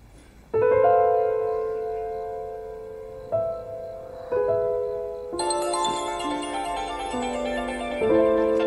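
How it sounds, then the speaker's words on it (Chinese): A mobile phone ringing indoors with a bright melodic ringtone that starts abruptly, repeats its tune, then grows fuller and denser partway through, with no talking. "手机响了。"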